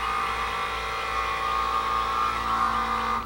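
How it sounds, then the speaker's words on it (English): Electric brake booster running in a 2012 International 4300 Durastar truck with a MaxxForce DT engine, a steady whirring electric motor hum with a high whine, constant and fairly loud throughout, no talking. "What you're hearing is the electric brake booster"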